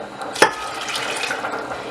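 Water pours steadily into a pot, a continuous splashing rush with a brief clink near the start, close and fairly loud.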